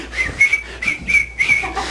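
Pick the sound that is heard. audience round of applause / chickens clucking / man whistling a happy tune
man whistling a happy tune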